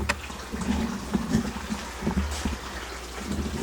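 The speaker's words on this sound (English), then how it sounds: "So we got an on-off switch for the waterfall." A small waterfall runs inside a tegu enclosure, a continuous close splashing and trickling of water with irregular gurgles and drips over a low steady hum.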